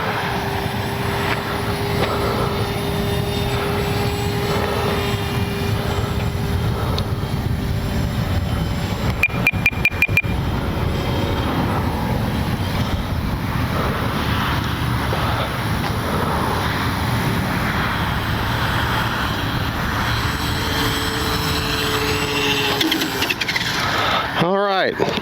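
A small propeller RC airplane, a Skynetic Dragonfly, whines steadily overhead for a long stretch, pitch rising and falling as it passes, with occasional clicks and a talking voice.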